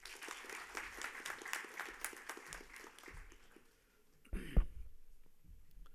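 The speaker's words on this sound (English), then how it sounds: "please welcome him with a warm round of applause" Audience applause welcoming a keynote speaker at a formal university day function, dense clapping for about four seconds that fades away, followed by a few louder thumps and brief speech near the end.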